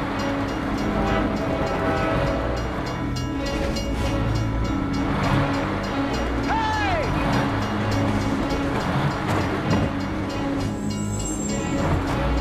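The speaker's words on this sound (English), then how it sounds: "One story is the train passing through the level crossing." In a film scene, a train rumbles and clatters through a level crossing with a loud, continuous mechanical roar. Brief squealing tones rise above it midway, and faint voices and other scene sounds mix in.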